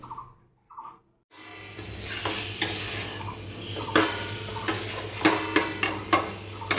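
Fried potatoes and pointed gourd drop into hot spiced oil, starting a loud sizzle after a brief quiet, then a spatula stirs and scrapes the pan in repeated clicking strokes over steady frying noise.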